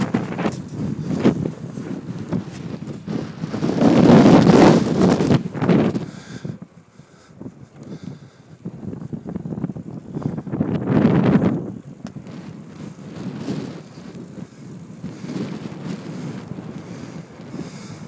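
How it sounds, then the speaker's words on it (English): Wind buffets the microphone of a cyclist riding into a headwind in Montana, roaring in gusty surges with two strong blasts and quieter stretches between them. "Oh, there is that nice headwind again."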